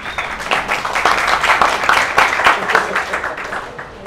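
An audience at a children's book fair event in Colombia applauds steadily for several seconds, a dense patter of clapping that stays level then tapers slightly.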